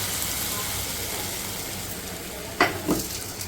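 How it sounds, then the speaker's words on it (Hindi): Hot ghee tempering with onion, red chillies and cumin poured over mash dal, a steady frying sizzle followed by two sharp splattering crackles as the hot oil hits; no talking. "ये देखें, अब हम इसके ऊपर लगा देते हैं बघार ज़बरदस्त सा"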